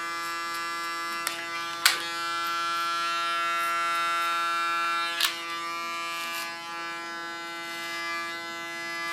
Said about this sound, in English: This I do with only the tip of my clipper.